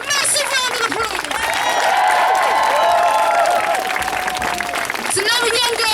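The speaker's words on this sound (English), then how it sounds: "Give them a massive round of applause." A crowd at a street demonstration bursts into sustained applause and some cheering, loud and close. A voice speaks over the clapping near the start and again near the end.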